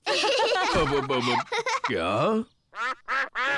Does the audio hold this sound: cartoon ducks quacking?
yes